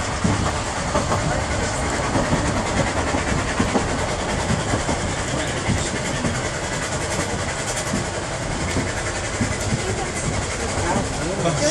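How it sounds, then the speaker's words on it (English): A very heavy train rumbles past nearby on a curve with a constant grinding roar and faint rhythmic wheel clatter, steady for over ten seconds. "Very heavy train on the curve as well."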